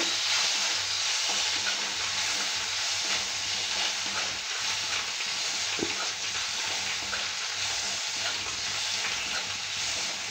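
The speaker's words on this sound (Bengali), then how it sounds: "আমি দিয়ে দিচ্ছি আমটা, এটা একটু নেড়ে চেড়ে ভেজে নেব।" Mango pieces frying in a pan, a continuous soft sizzle with occasional scraping and stirring sounds, close and steady throughout.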